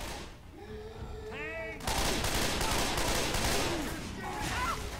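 Gunfire in Left 4 Dead 2 during a fight with a tank and a smoker, a loud continuous burst of shooting that erupts after a short lull with game voices and lingers in a dense roar.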